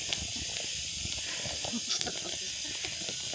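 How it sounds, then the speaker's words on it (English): Fresh eucalyptus branches hiss and sizzle as their oils boil out in a campfire by an Arctic lake, a steady close hiss with faint crackles throughout. "it is like sizzling with the oils that are coming out of it."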